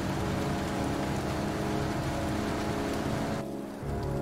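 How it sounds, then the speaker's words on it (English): Rain falls in the video game Heavy Rain as a dense, even hiss that stays constant throughout, with a slight dip near the end. "Was the rain falling forward?"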